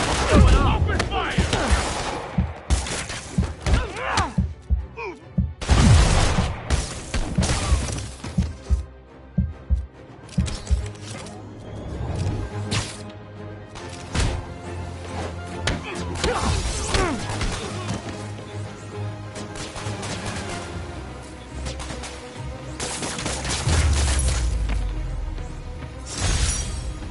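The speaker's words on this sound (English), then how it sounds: "Open fire!" A chaotic burst of gunfire with crashing and smashing impacts, sharp cracks and thumps scattered loudly over about half a minute, mixed with shouting voices.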